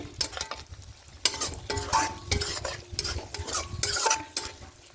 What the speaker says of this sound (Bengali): ঝোলটা ফুটতে শুরু করছে ঠিক এই সময় ডিমগুলো দিয়ে দেবো